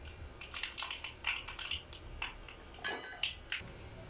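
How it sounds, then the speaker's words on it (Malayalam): Mustard seeds pop and splutter in hot coconut oil in a pan, giving scattered sharp crackling bursts with a louder cluster near the end, close and fairly quiet, with no talk. "എണ്ണ നന്നായിട്ട് ചൂടാവുമ്പോൾ നമുക്ക് അതിലേക്ക് കടുവിട്ട് കൊടുക്കാം"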